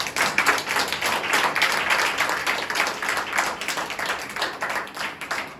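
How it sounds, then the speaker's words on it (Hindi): A church congregation applauds loudly for the Lord, dense rapid clapping from many hands sustained throughout, close and lively. "आइए प्रभु के लिए जोरदार ताली"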